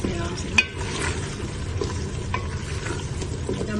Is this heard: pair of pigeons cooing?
no